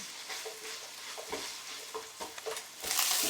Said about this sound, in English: So let this start to fry until it starts to go a little golden brown